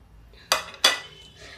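Vegetables for a jackfruit curry go into a pressure cooker, with two sharp metallic clinks of pots and utensils close by in a quiet kitchen, each ringing briefly.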